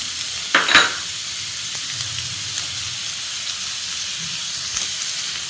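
Small chopped carrots go into a hot pan for street-style chicken fried rice, with a steady sizzling hiss, a sharp clatter of stirring near the start and a few faint scrapes after.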